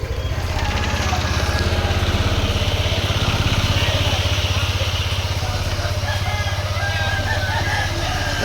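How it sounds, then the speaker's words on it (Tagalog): A motorcycle engine runs steadily at idle, a continuous low mechanical drone at close range that holds at a constant level throughout, with faint voices in the background. "Start natin mga kalangga yung motor."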